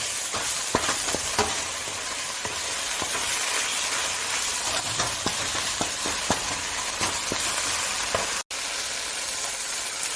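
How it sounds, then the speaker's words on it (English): Beef browning in a wok for a spicy stir fry, a loud, dense, unbroken sizzle with scattered pops and crackles, close up and without talk. "Starts to brown on the bottom side, I will go ahead and flip it"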